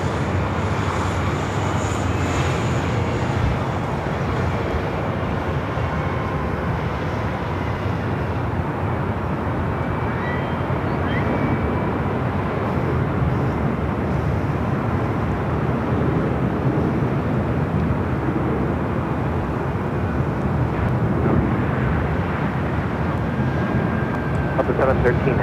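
At LAX, an airliner on takeoff roll gives a loud, sustained engine roar that holds steady throughout, broad and rumbling without letup.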